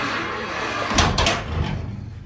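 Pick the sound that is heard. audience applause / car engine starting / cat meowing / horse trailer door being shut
horse trailer door being shut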